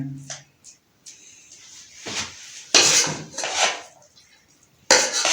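Cooked Chinese vegetable pulao rice being dished out of a pot, with scattered clinks and scrapes of a metal spoon against cookware, a few louder scoops near the end, and faint voice in between.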